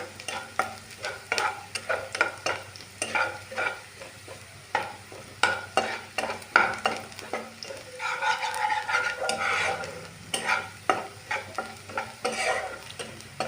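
An egg dosa topping sautés in a pan, crackling and sizzling close by while a spatula scrapes and taps in an irregular rhythm, the sizzle swelling briefly midway, with no talking.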